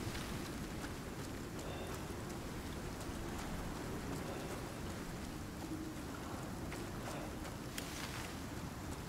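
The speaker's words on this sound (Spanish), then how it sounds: "tengo exposición a la tormenta" Steady, dense storm rain in the video game Icarus, a constant hiss and patter of drops with gusts of wind, loud and even throughout with no voices.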